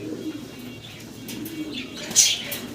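Pigeons coo at a pigeon sale where fancy birds are sold in pairs, a soft low murmur running steadily under the scene with a brighter chirp near the end.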